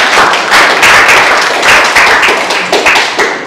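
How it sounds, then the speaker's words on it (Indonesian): A class applauds the second group after their presentation, with dense, sustained clapping from many hands close by for the whole stretch, steady and unbroken. "Saya kasih tepuk tangan untuk kelompok kedua ya."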